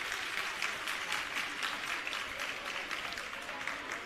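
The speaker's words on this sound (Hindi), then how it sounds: "तो आइए एक बार पुनः जोरदार तालियों से शामिल हों इस अभिनंदन में।" An audience at a government school building inauguration claps loudly and steadily, a thick continuous patter of many hands filling the space for several seconds, with faint crowd murmur beneath.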